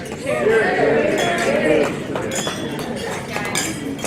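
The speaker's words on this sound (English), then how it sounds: "Let us raise our glasses in a toast to Joe and Stacey" Glasses clinking together during a wedding toast, a bright cluster of light chimes rising over a lively crowd's chatter and voices, fairly close and layered under the talk.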